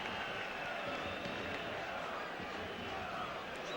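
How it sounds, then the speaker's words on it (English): Large football stadium crowd at a UEFA Cup match between Barcelona and Liverpool, a steady broad roar of restless murmuring and noise from thousands of fans, continuous and fairly distant. "The crowd beginning to be a little impatient, and Liverpool will be pleased to hear that reaction."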